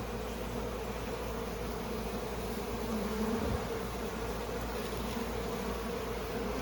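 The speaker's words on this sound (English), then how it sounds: "These bees are cleaning up the honey that I spilt when I framed up that comb" Honey bees buzzing steadily in a dense, continuous drone while cleaning up honey spilt from framed comb during a cutout hive transfer into a Layens hive, close and even throughout.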